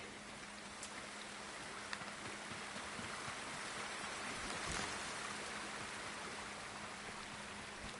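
Steady rushing water from a waterfall in Ghost of Tsushima, a constant broadband wash with faint scattered splashes and no speech.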